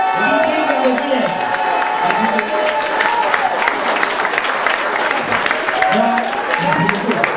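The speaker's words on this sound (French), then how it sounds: "je vous demande vos applaudissements" An audience at an evening mock trial during a 2007 walking rally claps steadily and loudly throughout, with a cheer or shout in places and talk mixed into the applause.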